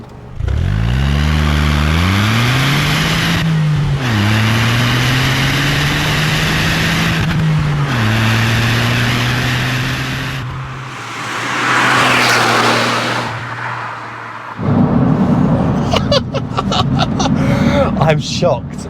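A remapped Smart 451 Brabus engine revs hard through several rising gear pulls in a full flat launch, loud and close from inside the cabin, ending in a roaring burst of acceleration.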